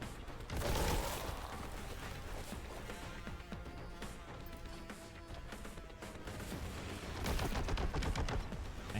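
Dense bursts of video game gunfire and crashing impacts fill the clip, loud and continuous, with heavier volleys at the start and end.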